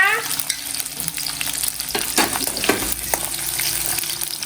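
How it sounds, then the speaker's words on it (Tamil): Onion and garlic sizzle and crackle steadily in a hot pan, with occasional stirring scrapes and no talking. "வெங்காயத்தோடு சேர்த்து பூண்டு போட்டுடலாம் நட்சத்திரா"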